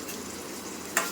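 Chopped onions for an egg gravy fry in a pan, a steady soft sizzle with a brief stirring scrape near the end.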